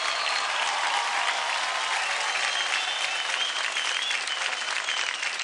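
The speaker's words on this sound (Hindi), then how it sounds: "जोरदार तालियां।" Loud, sustained applause from a TV singing-competition audience, steady and dense throughout without a break.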